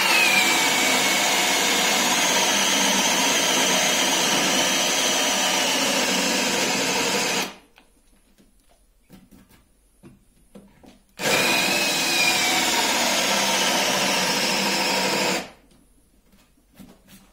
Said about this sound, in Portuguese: Vamos ver a agilidade que a máquina tem para fazer esse tipo de furo.